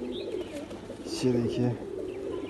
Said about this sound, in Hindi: मैंने कबूतर पकड़ लिया है